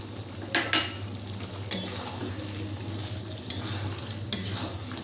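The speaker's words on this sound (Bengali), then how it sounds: "টমেটোটা দিয়েও খুব ভালো করে মিশিয়ে নেব" Chicken curry with chopped tomatoes being stirred in a pot over a gas flame, a spoon scraping and clinking in a few distinct bursts over a low steady simmer, close and moderately loud, with no talking.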